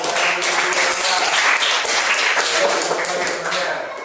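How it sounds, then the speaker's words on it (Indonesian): Students in an Indonesian classroom clap together in a dense, steady burst of applause that holds evenly for several seconds before tapering off slightly at the end. "Silakan, tepuk tangan dulu teman-teman."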